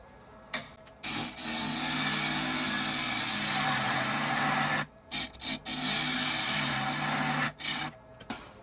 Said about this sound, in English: smaller gouge here to take the thinner passes